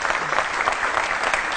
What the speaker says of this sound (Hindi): तालियां बजाइए देखिए उनके लिए।